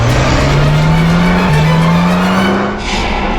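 A car engine revving hard as the vehicle swings through a U-turn and pulls away fast, a loud rising drone with a brief tire squeal, close and continuous with no talk.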